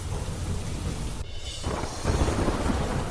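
Heavy monsoon downpour in Gujarat villages, a steady dense roar of rain with deep rumbling thunder underneath, a brief dip midway before the rain swells louder again, no voices.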